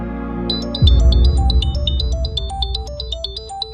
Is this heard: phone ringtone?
yes